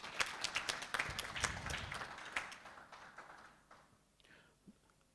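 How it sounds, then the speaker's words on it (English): Conference audience applauding, a burst of claps that swells then thins out and fades over a few seconds, moderately distant in a hall. "Let's clap for ourselves."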